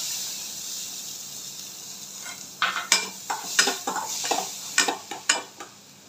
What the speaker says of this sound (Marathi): आता कांद्याला मस्त थोडासा ना तळू द्यायचा, जास्त पण करपवायचा नाही